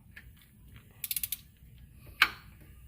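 A timing chain tensioner on a 3.6 V6 engine pops back under tension. A quick burst of faint ratcheting clicks is followed about a second later by one sharper, louder pop, all fairly quiet.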